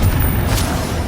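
A single heavy Confringo spell explosion from Hogwarts Legacy, a loud low boom with a brief bright crack partway through, rumbling on without pause.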